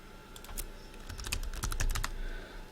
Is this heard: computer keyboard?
yes